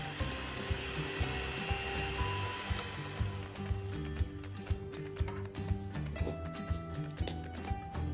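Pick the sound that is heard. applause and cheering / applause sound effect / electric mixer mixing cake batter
electric mixer mixing cake batter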